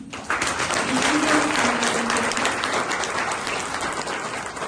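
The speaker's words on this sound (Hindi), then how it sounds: "एक बार इकट्ठा जोरदार तालियां" Hearty audience applause at a Brahma Kumaris silver jubilee celebration in Chandigarh after a dance performance, a dense, steady roar of many hands clapping together throughout.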